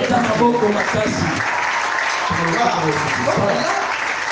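Church congregation clapping and cheering in praise during a French-language sermon, a dense, steady wash of applause filling the whole stretch, with voices calling out within it.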